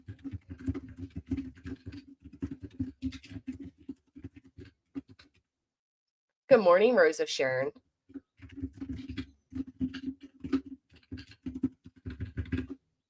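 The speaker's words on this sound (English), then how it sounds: "Sorry, I know the typing's so loud. It's the dang keyboard. The keyboard is loud." A loud computer keyboard clatters in rapid uneven bursts close to the microphone, broken by a short spoken greeting in the middle before the typing resumes.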